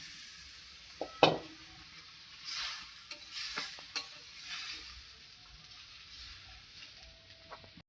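Fish pieces in a simmering curry gravy in a home kitchen, with a soft steady sizzle, a sharp utensil clink near the start, and occasional stirring scrapes throughout.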